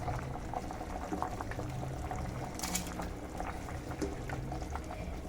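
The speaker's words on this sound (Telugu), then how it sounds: "బియ్యం బాగా ఉడుకుతున్నాయి" Rice boils in a pot for vegetable kichidi, a close, continuous bubbling and gurgling with steady intensity and faint pops.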